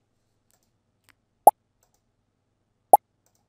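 Two short, crisp pops, evenly spaced about a second and a half apart, each sharp and isolated against silence.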